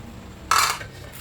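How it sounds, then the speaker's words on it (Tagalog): A lid is set onto a cooking pot of simmering milkfish sinigang soup with tamarind, giving one brief, close metallic clatter that fades quickly over quiet kitchen background. "takpan muna natin"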